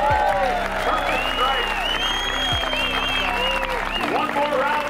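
A crowd applauds at a Fourth of July baseball event at Veterans Field, with a steady wash of clapping over a low constant hum and faint cheering or whistles throughout.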